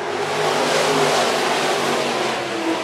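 Modified race cars roaring off at the green flag on a dirt track, a dense, loud wall of engine noise from many cars accelerating together, sustained throughout with no talk.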